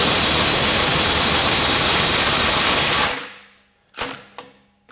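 An impact wrench fitted with a Husky 1/4 inch impact adapter hammers loudly and continuously for about three seconds while breaking a bolt free at a 350 foot-pound setting, then stops, leaving a couple of sharp knocks.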